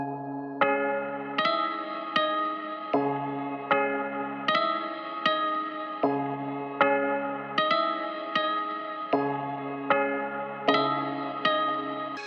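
A dark arpeggiated sample made in FL Studio repeats its note pattern in a steady loop, with bright, reverberant tones and a stuttering note, playing alone at an even level.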